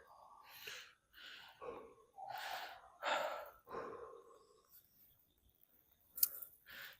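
Heavy, ragged breathing from a person catching their breath after a long walk through a forest, a run of loud gasping exhales and sighs close to the mic that tapers off into quieter breaths, with a sharp click near the end.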